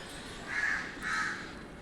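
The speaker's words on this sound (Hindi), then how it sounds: "और ये रहा हमारा कौवा, ये देखो ये उड़ गया" A crow cawing outdoors: two drawn-out caws about half a second apart, moderately loud over steady background noise, with no voices.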